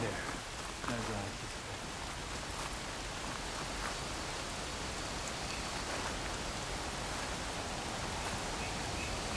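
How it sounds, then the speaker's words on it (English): Steady rain in Horizon Forbidden West hisses densely and evenly throughout, a constant wash of drops on surfaces with a brief lower rumble at the start. "No escaping this rain"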